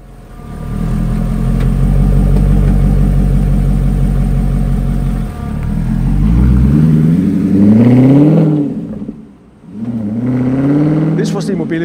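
A Spyker C8 Double 12S, a Dutch supercar, revs its engine loudly and close by, first holding a deep steady drone, then climbing through repeated rising surges with brief lifts between them.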